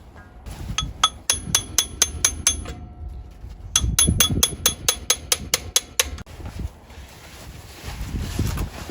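Sharp metallic hammer strikes on a chisel at the RTV-sealed rubber gasket of a 1957 GM rear differential cover, in two quick rhythmic bursts of about ten light, ringing taps each, close to the mic.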